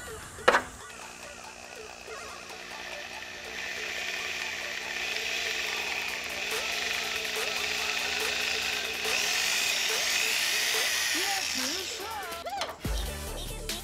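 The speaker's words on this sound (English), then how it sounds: "I'm using a 1/4-inch drill bit for these 3/8-inch bolts" A power drill with a 1/4-inch bit whines steadily for several seconds, its pitch wavering as it bores through a boot, starting with a click and stopping abruptly.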